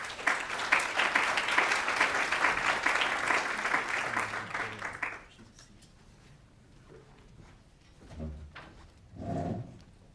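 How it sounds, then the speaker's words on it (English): Audience applause at a health data symposium, a dense sustained clapping that fills the room for about five seconds and then cuts off, leaving quiet room noise with a couple of soft thumps. "So thank you."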